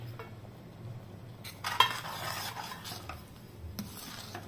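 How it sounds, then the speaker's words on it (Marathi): A ladle stirs Goan prawn curry with coriander and kokum in a pot, a soft scraping and swishing with one brighter clink of metal, close and fairly quiet over a low simmering hum. "आपण ह्याच्यात कोथिंबीर आणि 2 कोकम आहेत ते घालून ढवळून घेऊ"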